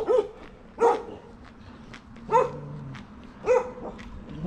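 Several dogs bark at a temple on a hiking trail in Taipei's hills: four sharp, nearby barks spaced about a second apart, with quieter yips and whines between them, and no talking.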